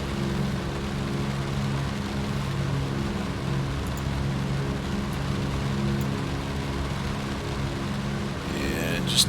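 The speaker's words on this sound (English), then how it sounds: "Here's our rain." Steady rain drums on the cockpit of a DC-3 in the X-Plane flight simulator, a continuous hiss layered over the low, droning hum of the engines throughout.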